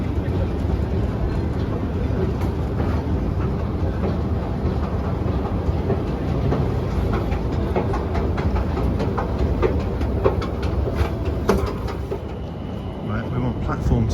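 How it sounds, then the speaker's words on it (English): A train bound for Arlanda Central, the airport-linked line in Sweden, rumbles steadily at a station platform, with rhythmic wheel clatter and broadband noise holding at a constant loud level throughout. "I'm just going to board the train to Arlanda Central, which is connected to the airport."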